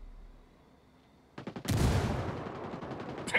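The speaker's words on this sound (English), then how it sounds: "Taking heavy fire." Heavy gunfire in Tom Clancy's Ghost Recon Wildlands: after a quiet start, a sudden burst of rapid automatic shots erupts and rolls on loudly, dense and close, with a sharp crack near the end.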